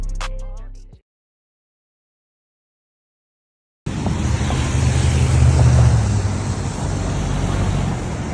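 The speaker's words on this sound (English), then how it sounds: "There is so much traffic today." Heavy street traffic with many cars passing, heard as a steady loud roadway rumble after a brief cut of silence, with a low engine drone building near the middle.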